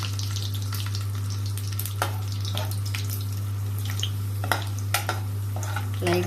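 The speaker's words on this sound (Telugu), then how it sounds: "జీడిపప్పు ఇవి కొంచెం ఫ్రై అయిన తర్వాత మళ్ళీ ద్రాక్ష వేసుకుందాం" Cashews, then raisins, frying in hot oil for chicken dum biryani: a steady, close sizzle with a constant low hum beneath it and a few sharp pops and clicks scattered throughout.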